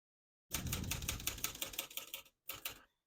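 Rapid clacking of a 1967 Olivetti Lettera 32 portable manual typewriter's keys in a quick burst, a brief pause, then a few more strikes; close and alone.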